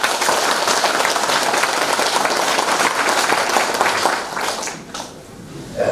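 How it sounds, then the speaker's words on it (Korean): Loud, dense audience applause at a farming cooperative ceremony welcoming the newly installed cooperative head, sustained for about four seconds before fading down and briefly swelling again at the end. "뜨거운 박수 한번 부탁드리겠습니다"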